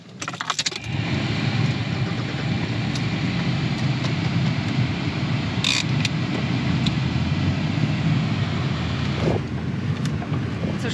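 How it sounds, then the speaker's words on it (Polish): A 4x4 engine runs steadily after stalling in the desert, a loud low rumble that starts abruptly and continues nonstop under heavy wind buffeting the microphone, with a few jangling rattles. "Zgas mi samochód."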